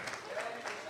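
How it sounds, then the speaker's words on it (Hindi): Applause for children at a Resurrection Day prize distribution: a steady, dense patter of clapping from a gathered crowd, continuous through the short moment with no voices standing out. "जोरदार तालियां, जोरदार तालियां।"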